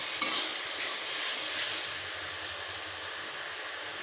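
Onion paste frying in a pan, a close, even hiss of sizzling oil after a brief clatter at the start, with occasional faint stirring.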